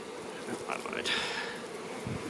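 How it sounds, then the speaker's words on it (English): Honey bees buzz in a steady, faint drone from an opened beehive, with brief handling knocks and scrapes mixed in. "Those are all bees."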